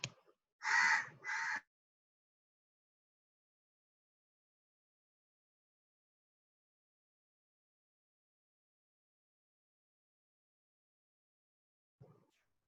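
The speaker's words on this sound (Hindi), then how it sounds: "एक कौवे को भगाने दो" A crow caws twice in quick succession near the start, loud and close, followed by long silence and a faint brief sound at the very end.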